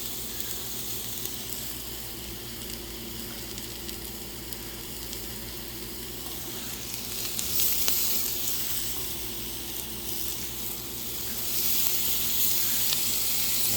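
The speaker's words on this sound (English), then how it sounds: "we're going to cook that up and get our mushrooms on here" Mushrooms sizzle in butter on a Blackstone griddle with a continuous hiss over a low hum, swelling louder twice as they are moved around.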